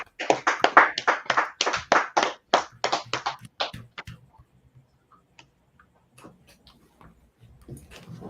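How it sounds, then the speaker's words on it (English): A small group claps in a steady, even rhythm for a few seconds at a class passing ceremony for a priest and officer, then the applause stops and only faint scattered noises remain. "All right, clap it up."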